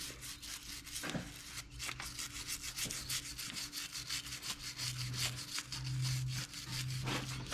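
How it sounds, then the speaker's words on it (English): Timing belt parts from an SRT-4 engine get scrubbed with standard brushes and WD-40, giving close, rapid bristle scratching in quick back-and-forth strokes with no talking. "I use a little bit of WD-40, and then I just have the standard brushes"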